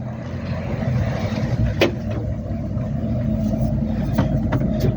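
A Citroen Berlingo 1.6 HDi Plus Multispace wheelchair-accessible MPV from 2014 creeps forward with a low steady diesel rumble, close by, with a couple of faint clicks and no talking.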